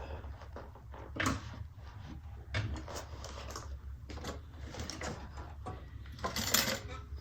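Sewing machine stitching a handbag seam in short bursts of whirring and clicking, fairly quiet and close, with pauses and small handling knocks between runs.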